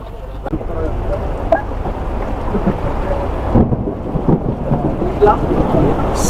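Heavy rain patters steadily with low thunder rumbling, along with scattered voices talking nearby.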